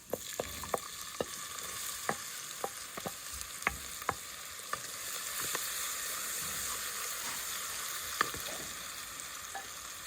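Garlic and onion sizzle steadily in a hot pan of oil, with sharp crackles and pops scattered over a continuous frying hiss, close and fairly quiet, with no talking.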